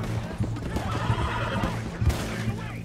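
A horse in Red Dead Redemption 2 neighs in short whinnying bursts amid game noise, with brief clip-clop hoofbeats and someone talking in the background.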